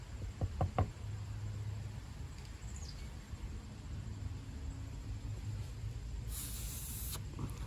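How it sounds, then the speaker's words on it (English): Short knocks open, then low steady hiss of carburetor cleaner sprayed and air blown through a small boat motor carburetor, with a brief sharper spray burst near the end, faint and close. "Little carburetor cleaner and blowing through some stuff."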